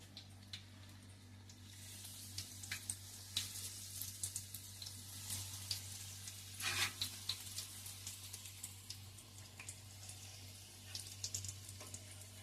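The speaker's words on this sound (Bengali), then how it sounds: "এটা আমি তেলে ছেড়ে দেবো।" Banana flower chops coated in bread crumbs frying in hot oil, a soft steady crackling hiss with small pops, faint and close, over a low constant hum, with no voices.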